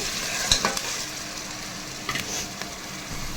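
Fresh ginger garlic paste fries in a pan with a continuous soft sizzle, and a few brief spoon scrapes and clinks come through as it is stirred.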